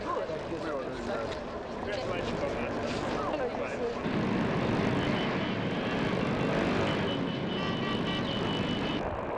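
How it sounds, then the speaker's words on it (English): A flypast of 23 warbird aircraft roars overhead at an Australian Formula One Grand Prix, a broad, sustained engine drone that swells louder midway and holds, with no talking over it. "The skies fill with a magnificent flypast of 23 aircraft."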